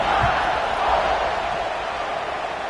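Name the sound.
stadium crowd buzzing in video game NCAA 26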